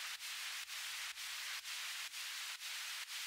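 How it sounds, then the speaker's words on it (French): Equalized white noise from Ableton's Operator synth plays as a continuous faint hiss, pulsing rhythmically in a regular sidechain-style pump about twice per second. "c'est juste un bruit blanc que j'ai équalisé"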